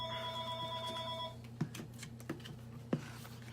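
Telephone ringing in an aquarium supply office, a steady electronic ring tone over a low hum that stops after about a second, followed by a few faint clicks and taps.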